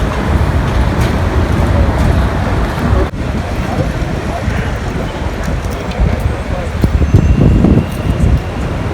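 Steady low rumble and rolling noise of a train in a station, with broadband mechanical clatter throughout and a brief sharp knock near the start.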